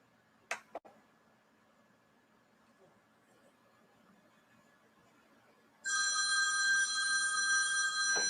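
A phone rings in the background of a quiet room, a bright continuous electronic ringing that starts abruptly near the end after a couple of small taps.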